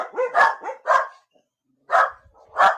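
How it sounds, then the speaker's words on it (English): Several dogs bark in a studio, a burst of quick overlapping yips and barks followed by a short pause and two more loud, close barks. "Oh wow, you got some dogs there in the studio."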